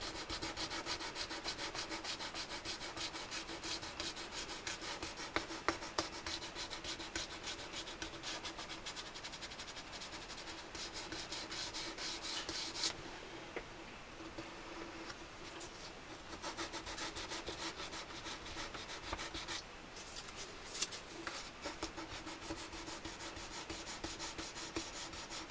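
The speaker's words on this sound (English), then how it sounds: "with 400 grits, just lightly sand it back a little and see if I can get that nice and smooth" Sandpaper of 400 grit lightly rubs back the painted bodywork of a Paolo Soprani 80 bass accordion, a steady scratchy back-and-forth sanding that continues alone for the whole stretch.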